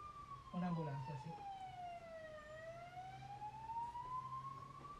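A distant ambulance siren wails in slow rising and falling sweeps, heard faintly in the background while a person talks briefly at the start.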